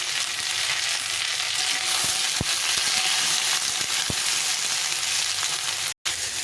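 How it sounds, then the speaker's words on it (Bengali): Mixed vegetables, including eggplant, fry in hot oil in a pan with a continuous bright sizzle and a few scattered utensil clicks and taps, heard close by and without speech, until the sound cuts off briefly near the end. "এইভাবে সবগুলো সবজি দিয়ে প্রথমে একটু ভেজে নেবো"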